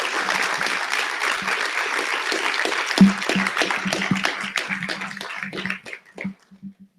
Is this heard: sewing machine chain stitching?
no